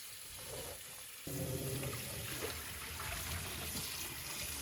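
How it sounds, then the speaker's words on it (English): Hot water gushes from a sink tap onto three skeins of yarn dyed with birch leaves, starting after a quiet moment and then running steadily and close by. "these 3 skeins are going to get rinsed in the hottest water that the sink can manage"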